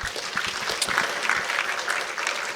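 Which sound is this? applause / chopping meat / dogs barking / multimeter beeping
applause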